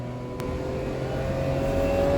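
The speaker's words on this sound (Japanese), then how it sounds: "車が鳴いてる。" A car engine holds a steady, close idle hum that swells slightly in a gentle rev toward the end, with no voices over it.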